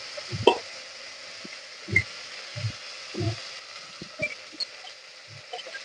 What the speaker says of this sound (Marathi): वाटणला पूर्ण तेल सुटेपर्यंत भाजून घ्यायचं